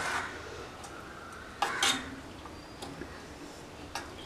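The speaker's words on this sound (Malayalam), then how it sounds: "വീണ്ടും നന്നായിട്ട് മിക്സ് ചെയ്ത് കൊടുക്കുക" A spoon mixes salted curd in a bowl for a ridge gourd pachadi, giving a few soft, scattered clinks against the bowl, brightest in a brief cluster midway, over a quiet room background.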